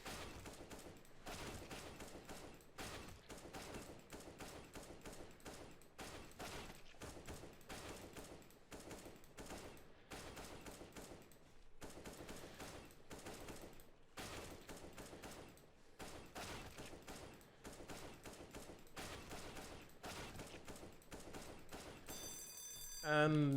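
Rapid gunfire in the game CS:GO while shooting bots in an offline practice map, faint bursts of automatic shots repeating in quick runs with short gaps, a louder sound at the very end.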